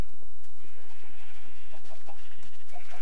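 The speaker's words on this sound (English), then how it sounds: "And you're a white sheep, so you, I don't need you." Sheep in the Minecraft video game give a few short, close bleats. They sound over a busy game background of clicks and soft noise.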